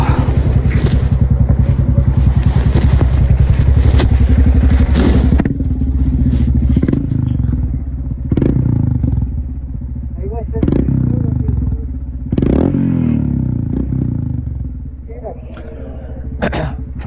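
A Royal Enfield Himalayan fitted with a Devil Pro Evolution full-system exhaust gives a loud, rapid-pulsing idle thump for about five seconds, then a series of sharp throttle blips and revs with lower rumbling between them.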